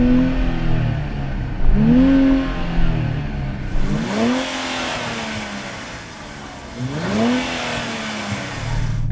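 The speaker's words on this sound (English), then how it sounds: "I'm going to rev up my 3-litre V6 turbo." A 3-litre V6 turbo car engine revs up hard several times, rising and falling in pitch, loud and close with a steady idle rumble between bursts.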